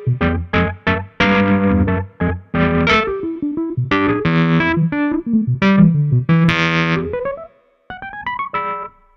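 A Nord Grand 2 keyboard plays through a Twin amp simulation with drive, giving loud, gritty electric-piano chords and stabs with distorted sustain, struck in quick rhythmic bursts and short pauses, no voices.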